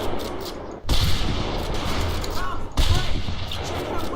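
Gunfire in the World War II shooter Medal of Honor: Pacific Assault, bootcamp firing range: two loud, sharp shot bursts ring out a couple of seconds apart, each trailing into a lingering rumble over a busy background.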